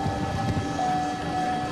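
A droning airplane engine hums steadily above the finish of a mountain stage of a cycling race at Senhora da Graça in Portugal, a continuous rumble holding an even level throughout with no speech.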